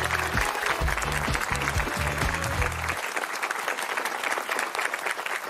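Studio audience applause on a French television game show, a sustained warm clapping from the crowd with a music sting playing underneath for the first few seconds.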